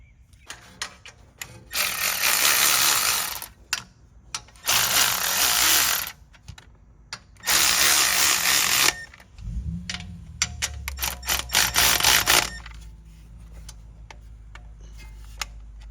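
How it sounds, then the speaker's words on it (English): Repeated tool bursts while bolts are tightened on a BMW F82 M4 during an upgrade: four loud, roughly 1.5-second bursts separated by short gaps, followed by a lower steady hum with scattered ticks and clicks. "Yep, torque to spec."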